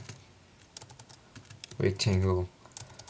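Typing on a computer keyboard while coding ActionScript 3.0 in Flash Professional CS6, scattered light key clicks in short runs, with someone briefly speaking over them midway.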